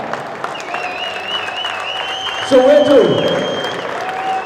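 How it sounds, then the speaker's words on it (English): A crowd at a South African national futsal league awards ceremony applauds Soweto Futsal Club with steady clapping while someone speaks over a microphone and a thin electronic whine rings. "let's give them a warm round of applause"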